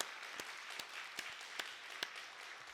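A church congregation claps during a Sunday worship service, a sparse, quiet patter of hands with a few sharper individual claps standing out at regular intervals.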